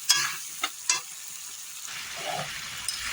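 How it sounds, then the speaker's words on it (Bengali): Boiled lentils for Bengali dal with ash gourd poured into a pan of frying spices, a few sharp splashing bursts followed by a quiet, steady sizzle close by. "দেখতে পাচ্ছ ডালটা আমি ঢেলে দিয়েছি"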